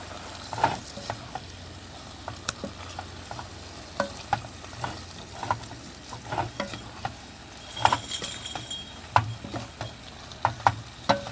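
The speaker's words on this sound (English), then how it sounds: "Now stir fry gently with the beef, so let the beef absorb on that coconut" Beef being gently stir-fried in coconut milk for Thai Panang red curry: a soft continuous sizzle with scattered clicks and scrapes of a utensil against the pan at an irregular pace.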